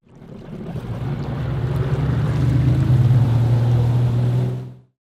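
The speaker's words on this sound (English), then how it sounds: "jet ski," A jet ski runs on open water, its engine droning steadily with a low buzzing tone, building up over the first seconds and then holding loud and close until it stops abruptly.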